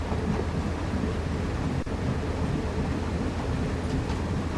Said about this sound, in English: There is a train again.